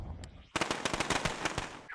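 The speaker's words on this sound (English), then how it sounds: "For the firework cracker sound, you could use the sound in the destruction category." A firework cracker effect in LittleBigPlanet 3, built from the destruction sound category, bursts in after a quiet half-second as a fast, loud string of sharp crackling pops that runs for over a second before stopping.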